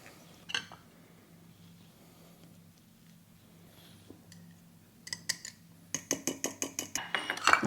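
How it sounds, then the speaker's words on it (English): A single garlic clove squeezed through a metal garlic press in a home kitchen: faint handling clicks, then a run of sharp, rhythmic metallic clacks and squeaks close by toward the end, with no talking. "I have 1 clove of garlic. I'm going to put through a garlic press"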